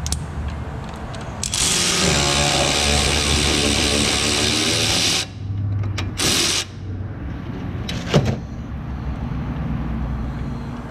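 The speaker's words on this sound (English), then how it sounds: "come in with my little impact and get that out the way." A small impact wrench working on the lower ball joint of a 2008 Ford F150, a loud sustained whirring rattle for several seconds, then short bursts with metallic clanks between.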